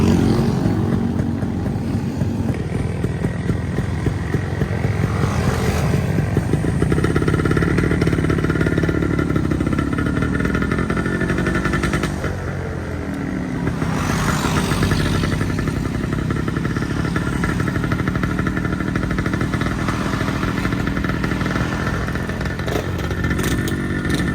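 A Kawasaki Brutus 140 motorcycle with an aftermarket Tanay silencer runs steadily nearby with a deep, muffled exhaust rumble, idling and briefly revving up and down throughout, with no talking.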